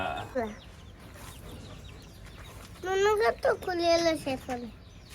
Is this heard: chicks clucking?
yes